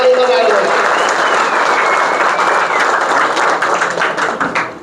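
Audience applause for Nilesh Sir and Jyoti Madam at a school annual gathering in Talegaon Dabhade: a dense, loud, sustained clapping that fills the whole stretch and tapers slightly toward the end.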